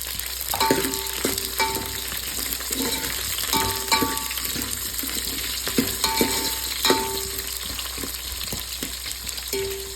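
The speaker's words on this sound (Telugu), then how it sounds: "కట్ చేసుకున్న మునక్కాయలు వేసుకుంటున్నా" Cut drumsticks hit hot oil in a sambar pan, a steady near sizzle with repeated metallic clinks and stirring knocks from the spoon against the pan.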